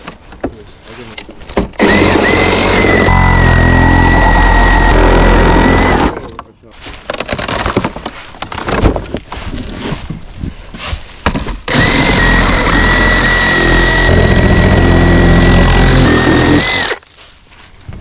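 A reciprocating saw fitted with a name-brand blade tears through wood while a shed is being demolished, roaring loud and close in two long runs with a choppy, rattling stretch between them.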